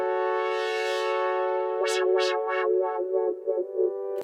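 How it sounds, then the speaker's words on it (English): A bright, sustained synthesizer chord without stereo widening hums steadily while a series of sweeping, wah-like filtered notes pulse over it and fade. "So without that effect, it sounds like this."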